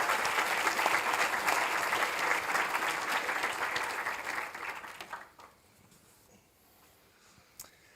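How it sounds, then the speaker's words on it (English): Quick round of applause for a vice chair and innovation jury at a competition closing ceremony, dense clapping for about five seconds that tapers off into near silence with a few stray claps. "maybe give them a quick round of applause"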